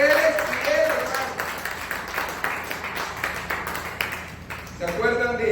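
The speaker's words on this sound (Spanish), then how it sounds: "Den un aplauso al Señor" A church congregation applauds during a Spanish-language service, steady clapping from many hands, with a voice and ringing tones rising near the end.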